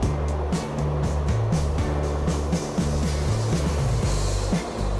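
A kitchen blender purees yogurt, salt, water and green vegetables, its motor whirring loudly and continuously while the pitch shifts up and down as the contents churn.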